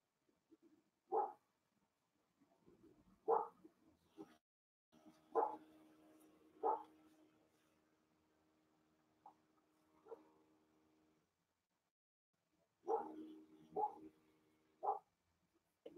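A dog barks indoors in scattered bursts of single and doubled woofs, moderately distant and not very loud, with quiet gaps and a faint background hum between barks.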